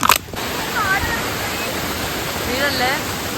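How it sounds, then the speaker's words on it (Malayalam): A big waterfall heard in a forest, a continuous broad roar of falling water filling the whole moment, with faint whistling chirps drifting over it. "എന്തോ വലിയ വെള്ളച്ചാട്ടത്തിന്റെ സൗണ്ട് കേൾക്കാം"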